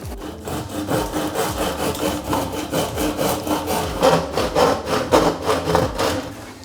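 Rhythmic back-and-forth sawing, close and fairly loud, as a hand saw cuts through a plastic pipe in quick, even strokes.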